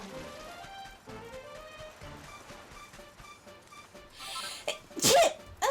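A person sneezes once, loud and close, near the end, a breathy intake building just before the sharp burst, all over steady melodic background music from the Dragon Quest XI role-playing game.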